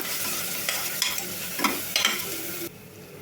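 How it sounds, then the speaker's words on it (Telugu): Ginger garlic paste fries with onions in a pan for a coconut milk biryani, a steady sizzle broken by several spoon stirs and scrapes, ending in a softer hiss. "అల్లం వెల్లుల్లి పేస్ట్ కూడా పచ్చాసులు పోయేదాకా అయితే వేగాలండి"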